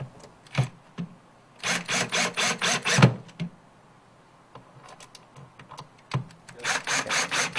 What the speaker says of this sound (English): Now that our slide is in place, we'll go ahead and take our drill